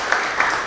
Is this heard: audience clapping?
yes